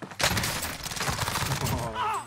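Rapid video game gunfire crackles in a dense, continuous fusillade of close shots, loud throughout the short stretch, with voices talking over it.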